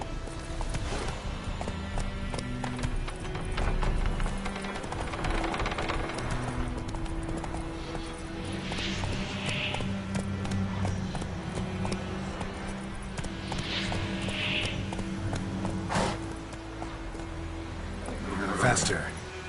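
Roach, Geralt's horse in The Witcher 3, gallops with steady rhythmic hoofbeats that carry on throughout, under game music and a voice speaking over it.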